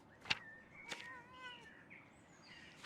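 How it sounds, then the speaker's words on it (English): Short, faint meows from a cat in the medieval video game Pentiment, a few brief mewing calls spread across a quiet game background with no talking. "I think that sound is the cat. Is it the cat?"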